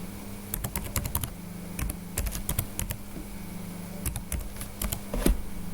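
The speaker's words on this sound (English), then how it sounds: "Now the password, I'll type it." A password typed on a computer keyboard: irregular bursts of crisp key clicks in quick runs with short pauses, recorded up close over a faint steady hum, with no talking.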